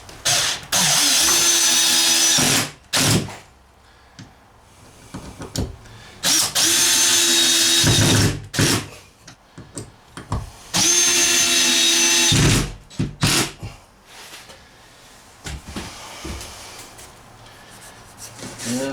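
Power drill fastening a wooden bench seat to the wall inside a DIY travel trailer, three loud sustained whirring bursts of a few seconds each, separated by short clicks, knocks and handling noise.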